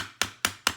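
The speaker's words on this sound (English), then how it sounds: "we're gonna have a little hammer, and we're just gonna tap it down" Three sharp, evenly spaced taps of a small hammer driving a ribbon spool holder down into wood, crisp and close with brief decays and no talking.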